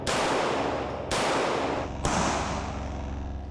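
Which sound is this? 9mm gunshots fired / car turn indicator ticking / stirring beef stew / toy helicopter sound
9mm gunshots fired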